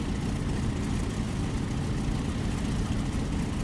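A propeller plane taxiing in the DCS flight simulator, its engine holding a steady low idle drone with a dense rumbling hum that stays even and unbroken throughout.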